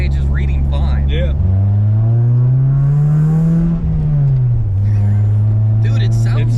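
A Mitsubishi Eclipse engine running smoothly without misfiring, a loud close drone that revs up, holds, then settles back to a steady idle, with people talking over it.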